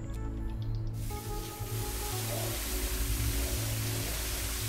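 Water being shot from a water gun in the video game The Eternal Cylinder, a loud, steady hissing spray that starts about a second in and continues over low game music tones.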